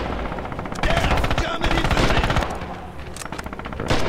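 Rapid machine-gun fire from a World War 2 shooter game, Rising Storm/Red Orchestra 2, with dense bursts and overlapping single shots, loud and close, and faint voices underneath.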